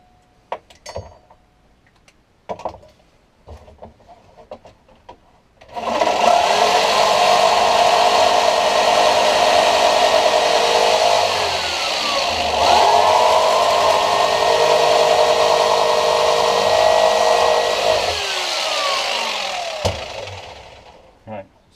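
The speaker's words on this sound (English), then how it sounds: "I'll cut them out with the jigsaw as well." A jigsaw cuts out a slot joining two 1-inch holes in a homemade kayak anchor rope spool, starting after a few light clicks and handling noises and then running as a loud, steady buzz for about twelve seconds before stopping.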